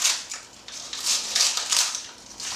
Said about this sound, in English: you can take a scissors and you can cut them right into fourths